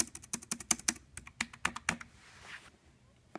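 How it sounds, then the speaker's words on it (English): Keys clack on an ASUS Transformer Book T100T hybrid tablet keyboard in a quick burst of close, crisp presses for about two seconds, then a brief soft shuffle and quiet. "this keyboard, it has a little bit of flex to it when you push down hard"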